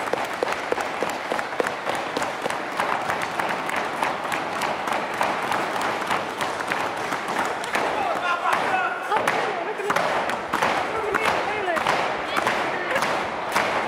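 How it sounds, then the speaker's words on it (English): A crowd of about 163 at an RWA Legacy 7 wrestling main event cheers and claps steadily throughout, loud and dense, with sharp slaps and thuds from the ring cutting through and a commentator's voice mixed in. "Listen to this crowd,"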